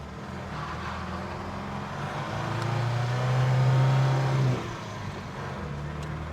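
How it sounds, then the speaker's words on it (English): A 1973 Toyota Hilux engine revs up hard for a burnout, a loud close rising roar that peaks and then drops back to a rumbling idle, with voices over it. "Who thinks this thing will do a burnout when I take off?"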